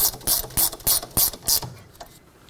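A ratchet clicks in quick loud bursts, about six pulls in a row, while tightening the caliper bracket mounting bolts on a Pontiac G6's rear brake, then fades to quiet.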